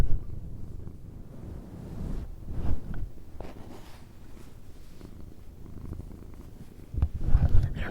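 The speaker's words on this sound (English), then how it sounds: "I don't know if you can hear her purring or not" A cat purring softly and steadily close up, a low rumbling drone with some rustling and wind noise.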